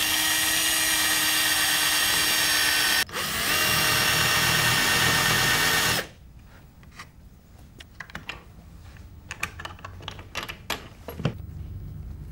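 A power drill bores and countersinks wood for a breakfast-in-bed tray, running in two loud sustained whines split by a brief stop, then cutting out and giving way to quieter clicks and knocks of handling.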